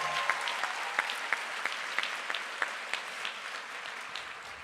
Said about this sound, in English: Let's give another round of applause for Renee Mitchell.